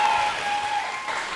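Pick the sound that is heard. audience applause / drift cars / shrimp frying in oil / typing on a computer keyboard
audience applause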